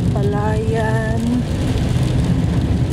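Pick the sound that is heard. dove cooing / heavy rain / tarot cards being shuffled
heavy rain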